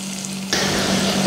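Onions hit hot neutral oil in a pan over a modest flame and burst into a sudden, bright, steady sizzle halfway through, close and loud after a quiet start.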